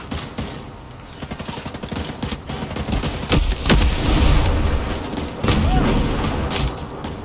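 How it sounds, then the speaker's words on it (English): Motorbikes explode in the video game Ghost Recon Breakpoint, a burst of gunfire giving way to a heavy booming blast and a rumbling secondary explosion, loud and chaotic. "them bikes blew up and caused a secondary explosion"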